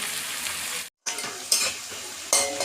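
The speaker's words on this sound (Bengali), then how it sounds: "এখন একটু নুন দিয়ে সবজিগুলো আমি ভেজে নিচ্ছি" Vegetables and potatoes sizzle hard in a pan with a pinch of salt for egg chowmein, a steady close fry broken by a brief silent gap, with the scrape and clink of stirring and utensils over the top.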